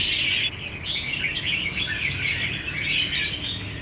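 A caged red-whiskered bulbul chirps in quick, bright bursts of song, close and clear over a faint background hum, with no talking.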